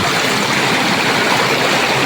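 Stream water rushing under a bridge at night while crabbing in the Philippines, a dense, steady broadband hiss of flowing water heard close and alone.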